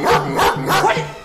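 A dog barks several times in quick succession, close and loud, with short yipping barks running through the whole moment.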